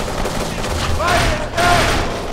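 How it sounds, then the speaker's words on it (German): Bursts of gunfire from the video game Kane & Lynch 2 rattle loudly across the whole moment, heavy volleys with brief swells, while game voices shout underneath. "Zum Teufel kommen die Schüsse her!"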